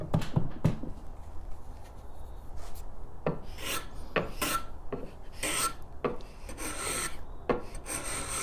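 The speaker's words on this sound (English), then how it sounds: "It's been scraped from here all the way down to the edge of the mouth." A wooden hand plane body is scraped in repeated rasping strokes, some brief and some drawn out, with close, dry woody scratching and no talk.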